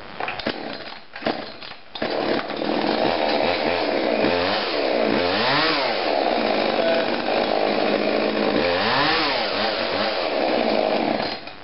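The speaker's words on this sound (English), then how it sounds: "So now it's a pretty decent saw. It's a Ryobi" A Ryobi chainsaw runs loud and close after a few rough pulls and sputters, its engine revving up and down in repeated swells.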